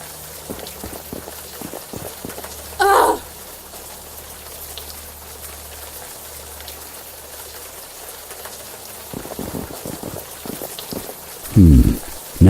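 Warm rain falls in the video game Unavowed as a steady, soft hiss of drops throughout, broken by a couple of brief louder game sound effects.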